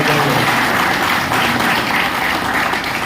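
An audience at a business training session claps in thanks for the presenter, a dense, loud, continuous applause with no individual claps standing out.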